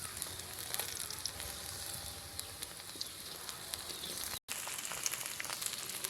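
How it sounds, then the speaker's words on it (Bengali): Onions frying in hot oil for gorgoriya pitha, a steady dense sizzle that carries on without a break for several seconds and drops out only for a split second near the end. "লাল লাল করে ভাজা হচ্ছে"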